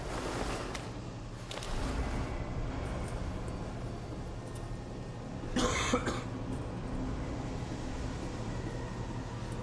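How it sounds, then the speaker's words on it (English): A single harsh cough bursts close into a microphone partway through, standing out against a steady hiss and rumble of background noise in a Resident Evil Village gaming session. "Sorry that I'm coughing all over the microphone and you're hearing it."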